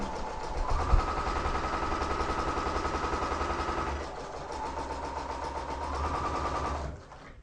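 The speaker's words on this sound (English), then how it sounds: "So I'm sewing 1/4 inch each side of the line I've just drawn." A sewing machine stitching quilt fabric runs in a steady, rapid mechanical whirr close by, briefly slowing in the middle before speeding up again and stopping abruptly at the end, with no talk.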